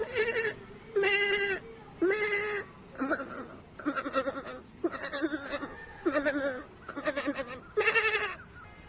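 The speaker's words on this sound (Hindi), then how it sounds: "बकरी ताजी ताजी पत्तियां खाने लगती है मजे मजे से।" A goat bleats repeatedly in an Indian village while eating fresh leaves, giving about eight loud, wavering calls in steady succession with short gaps between them and no voices over them.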